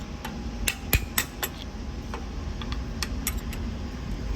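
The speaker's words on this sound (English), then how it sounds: "I just used a hammer and a screwdriver." Sharp metallic taps of a hammer striking a screwdriver to knock out an upper brake pad clip on a 2020 BMW X5 G05 front brake, several irregular close knocks over faint background noise.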